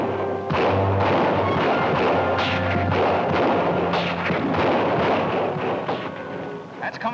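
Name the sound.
gunshots fired from hotel windows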